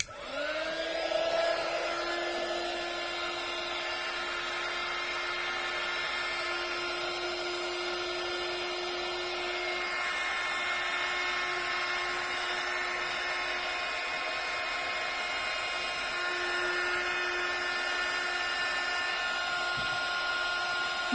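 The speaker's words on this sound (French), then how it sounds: "Et nous n'avons plus qu'à mettre donc, ce qu'on appelle le heat gun." A heat gun, used for drying embossing on a handmade greeting card, runs continuously with a steady high whine and airy hiss for about twenty seconds, no speech.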